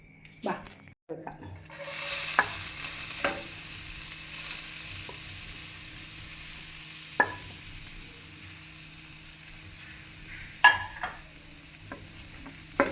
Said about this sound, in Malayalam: തേങ്ങയുടെ കൂടെ കറിവേപ്പില ഇട്ട് വറുക്കാനാണ്